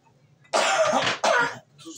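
A person coughs twice in close succession, loud and near, two harsh raspy bursts after a quiet start, followed by a faint trailing sound.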